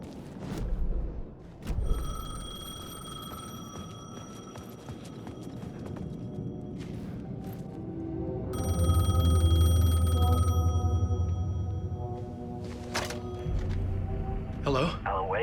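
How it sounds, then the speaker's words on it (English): A payphone in the game Alan Wake 2 rings with repeated bright electronic tones between stretches of low ambient rumble and scattered knocks, and a voice speaks over it. "The payphone was ringing."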